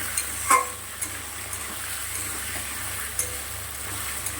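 Potatoes fry with onion and tomato in a pan, a steady soft sizzle under occasional scraping stirs with a spoon, close and fairly quiet, no voices.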